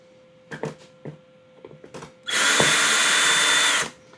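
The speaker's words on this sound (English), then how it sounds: "set your drill to reverse, and we're just going to back these screws out" A cordless power drill runs in reverse to back out screws, a few short clicks and bursts first, then a loud steady whine held for about a second and a half close by.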